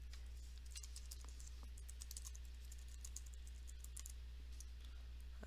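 Someone types a short password on a computer keyboard, a quiet scatter of light key clicks in irregular bursts over a steady low hum, with no speech.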